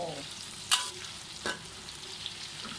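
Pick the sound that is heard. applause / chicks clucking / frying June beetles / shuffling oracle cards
frying June beetles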